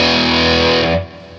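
A Gibson Les Paul electric guitar on its bridge pickup, played through distortion, rings out one loud, buzzing sustained chord that cuts off abruptly and leaves a short decaying tail.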